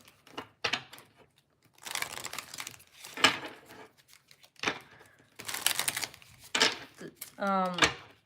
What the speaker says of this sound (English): Let's shuffle out some cards, get some numbers for pile number 3.